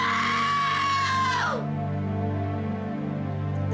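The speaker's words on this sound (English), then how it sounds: "That is definitely a scream that will live in my head forever." A person lets out a long, loud, high scream that wavers and then drops in pitch, trailing off into a lower moaning cry, close and raw with no other sounds around it.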